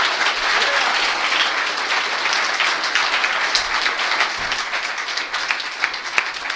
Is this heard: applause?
yes